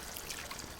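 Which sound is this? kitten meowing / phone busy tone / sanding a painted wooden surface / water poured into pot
water poured into pot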